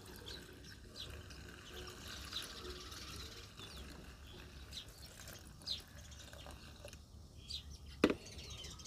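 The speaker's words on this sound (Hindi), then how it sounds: "अब इसमें और भी ऊपर से हम पानी मिला देंगे" Water pours steadily into a 15-litre sprayer pump tank while a garden spray for black spot on roses is mixed, a continuous outdoor trickle and splash with a sharper clunk near the end.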